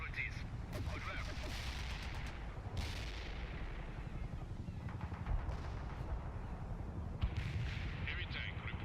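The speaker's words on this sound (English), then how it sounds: "Aiming at the coordinates. Firing artillery." Artillery fire in the real-time strategy game World in Conflict, a dense rumbling barrage with repeated booms and scattered sharper blasts under continuous battle noise, with game voices now and then.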